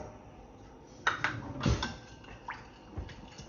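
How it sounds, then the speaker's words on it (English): Rice wine vinegar, light soy and sweet soy sauce mixed in a bowl: a few light clinks and taps of a spoon against the dish, with short stirring strokes, close and fairly quiet. "2 tablespoons of rice wine vinegar, 2 tablespoons of light soy, and 1 tablespoon of sweet soy. We're going to give this a mixer."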